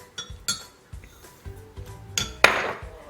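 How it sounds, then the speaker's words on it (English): A metal spoon stirring yeast and sugar into a lukewarm milk and water mixture, producing scattered clinks and taps against the bowl with one sharper clatter near the end. "just gently give this a little stir"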